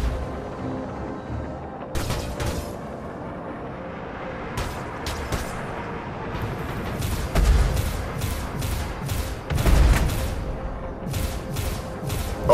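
Spaceship guns firing at an enemy ship in Star Citizen, a long run of sharp repeated blasts in irregular bursts over a constant engine rumble, with heavier booming hits standing out near the middle and end.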